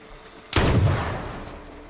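A single loud, booming gunshot in the survival video game H1Z1, a sharp crack at close range followed by a long rolling echo that slowly fades over quiet background.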